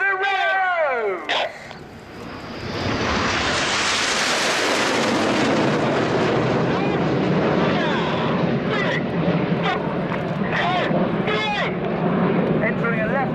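Red Arrows BAE Hawk T1 jets in a flying display at an airshow roar overhead, rising to a loud sustained jet rumble that holds for several seconds, with a commentator speaking over it at the start.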